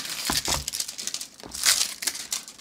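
Plastic packaging of a Freenove Raspberry Pi/Arduino starter kit crinkles close by in short, irregular bursts of rustling and crackling.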